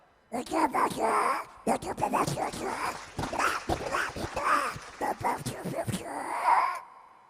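A human voice on a comedy stage show mimics a puppy with a string of whimpering, yelping and whining sounds, rising and falling in short bursts close by.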